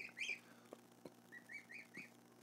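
A young duckling chirps in a box, with a run of high, thin peeps in short bursts, close but fairly quiet, along with a few soft knocks.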